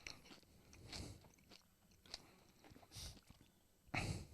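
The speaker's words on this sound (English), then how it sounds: "that's just silent crunching if you're just listening to this" Potato chips crunched close by in several crisp bursts spaced about a second apart, over a quiet, faintly noisy background with no talking.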